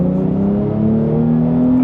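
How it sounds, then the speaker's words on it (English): A Porsche 911 Sport Classic, a 992-generation turbocharged car with manual gearbox and rear-wheel drive, gives a loud, close engine drone with a rising pitch as it revs, alone. "the sound is just amazing. The big 992 turbo sound."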